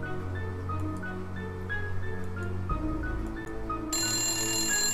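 A telephone rings inside a video game, repeated electronic bell tones over a game music bed, with a brighter ringing burst toward the end.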